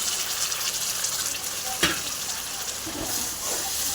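Potato and eggplant pieces frying in spiced oil in a pan, a continuous crackling sizzle with occasional stirring scrapes, close and steady.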